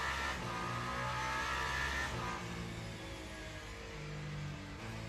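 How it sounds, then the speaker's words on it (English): A race car engine in a video game roars steadily, revving and shifting pitch as it accelerates, loud and close with no voices. "it's certainly one of the best sounding cars out there right now"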